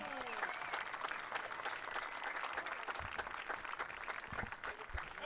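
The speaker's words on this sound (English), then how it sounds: "a big round of applause for your finalists for the Cold Boys Sparrows Cup" Crowd applause for the finalists at a senior all-star high school sports event, steady dense clapping throughout with some cheering, moderately distant in a large venue.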